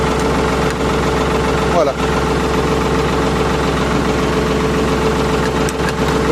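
A Ford 4110 tractor engine idles loud and close with a steady, rumbling, slightly knocking drone throughout, while someone speaks over it.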